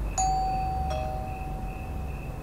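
A single electronic two-tone doorbell chime rings out clearly, its tone lingering and fading over a low background hum.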